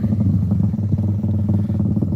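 A Honda CBR motorcycle passes close by on a road, its engine a loud, continuous, throbbing rumble with a clattery edge throughout, and no one speaking.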